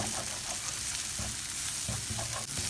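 Egg stirred into masala and frying for mushroom kothu parotta, a loud continuous sizzle with rhythmic scraping strokes of the spatula in the pan.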